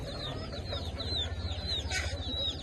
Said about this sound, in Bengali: আজকে হচ্ছে আপনাদের ওই যে আমাদের পুরানো সেই মুরগির খামার দেখাবো।